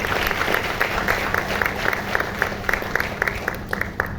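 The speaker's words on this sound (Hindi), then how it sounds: "भाई जोरदार तालियां इनके लिए, भाई जोरदार तालियां।" An audience at a Vestige gathering claps in sustained, dense applause, many hands beating steadily at close range for the whole stretch, with a faint murmur of voices underneath.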